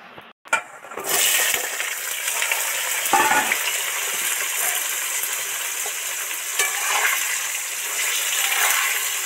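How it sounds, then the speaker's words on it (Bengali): After a brief clatter, a loud, steady sizzle of pointed gourd frying in hot oil fills the rest of the clip, with occasional soft stirring sounds. "তেল তো গরম হয়েই গেছে, এবার পটলগুলো তেলের মধ্যে উঠিয়ে দেবো"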